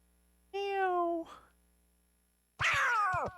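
A cartoon cat meows in the video game Kingdom Hearts Birth by Sleep: one drawn-out, clear meow, a short pause, then a second rougher, higher cry, both close and loud.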